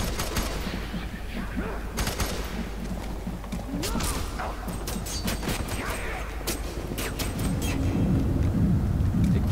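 Gunfire rattles in a multiplayer match of F.E.A.R. 3, rapid bursts and sharp cracks over a dense, rumbling din of battle, heavy and continuous from start to end, with occasional talk underneath.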